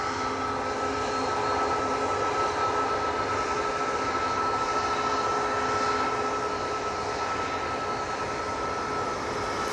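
A Qatar Boeing 787-9 Dreamliner at Manchester Airport produces a continuous, loud jet rumble with a steady high whine, unbroken and even throughout, with no talk.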